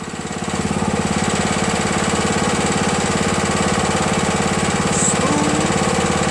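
Briggs & Stratton Quantum engine on a Honda/Craftsman push lawn mower idles steadily after a valve job, its uncleaned carburetor giving a throbbing, slightly uneven putter that stays loud and close throughout.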